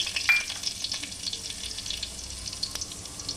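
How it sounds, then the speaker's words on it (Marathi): Cumin seeds sizzle in hot oil in a pan, a steady soft crackling hiss with a sharper burst near the start, continuous and close with no one talking. "मी पॅनमध्ये तेल घालून घेतलं आहे आता मी जिरंही घालून घेणार आहे"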